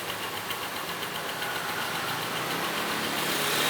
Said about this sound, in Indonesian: Dan keadaan langsam motornya biasanya metik agak kenceng